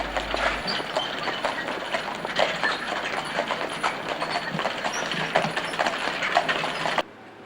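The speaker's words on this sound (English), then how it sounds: "The clippity-clop of horses pulling a coach." Horses' hooves clip-clop in a busy, uneven rhythm as they pull a coach, with rolling wheels and a low rumble underneath, fairly close.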